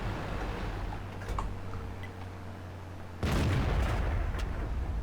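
Kanonenjagdpanzer tank cannon firing in World of Tanks, a single loud heavy boom that cuts in over a low engine rumble and leaves a sustained roar afterward.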